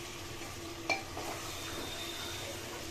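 Mutton with ginger and garlic stirred in a pan: soft sizzling under a spoon scraping the metal, with one sharp clink near the start, quiet and close.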